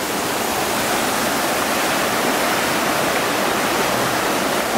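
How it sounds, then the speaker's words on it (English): A river at a border rushes past in a continuous, loud broadband wash of flowing water, steady and unbroken throughout, with no voices over it. "But man, check out the river here."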